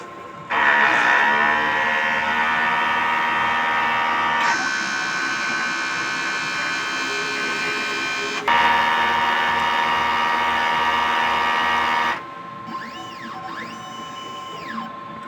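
An inkjet printer runs its head cleaning cycle, a loud, steady mechanical whine and buzz in long segments that shift pitch, ending in a quieter, warbling motor phase.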